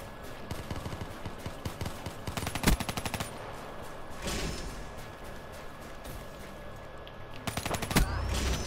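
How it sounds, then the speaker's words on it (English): Rapid automatic fire from the CUDA gun in Call of Duty: Black Ops III rattles in short, sharp bursts over a busy game background, with a couple of louder close volleys. "I love this gun. My favorite gun in Call of Duty."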